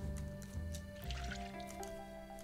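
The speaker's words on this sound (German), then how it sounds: "Wir müssen Blumen gießen." A watering can sprinkles flowers in the video game Littlewood, with soft trickling and dripping splashes running continuously under steady tonal game music.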